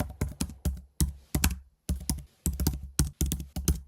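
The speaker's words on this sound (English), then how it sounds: "we'll type a street address for the project address" Keys clatter on a computer keyboard as a street address is entered: quick, close bursts of clicks with short pauses between words, with no talking.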